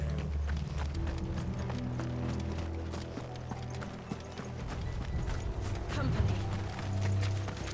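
Horses gallop in the video game Final Fantasy XVI, with a steady run of clip-clopping hoofbeats at moderate loudness over a sustained low musical bed.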